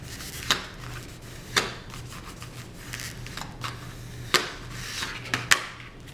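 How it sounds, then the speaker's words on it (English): A paper piece is burnished down onto a card, giving soft rubbing and scraping strokes broken by several sharp, close taps and clicks at irregular intervals. "Burnish it down."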